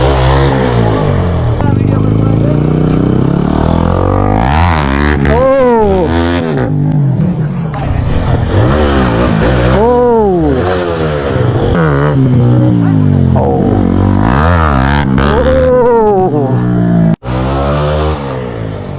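A motorcycle revs hard during a muddy drag-wheelie stunt session, its engine climbing and falling in repeated sweeping bursts, loud and close, with voices talking over it throughout.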